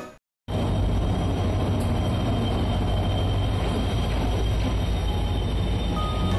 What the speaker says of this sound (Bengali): যথাসময় আমাদের ট্রেন ঢুকে গেল।